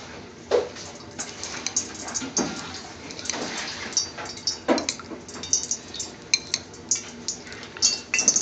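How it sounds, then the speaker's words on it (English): A non-stick metal frying pan clinks and scrapes in a steady series of light knocks as it is handled and set down, with a faint whimper in the background. "We have the frying pan here. Non-stick frying pan."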